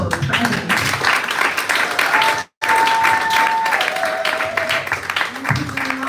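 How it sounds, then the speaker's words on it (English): Audience applause for a writer at a writers-to-authors cohort finale, sustained dense clapping from a crowd with a brief cut in the middle, a faint tone and some murmuring beneath. "Let's give a massive round of applause for Ebony."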